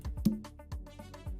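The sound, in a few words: second conga drum sample in FL Studio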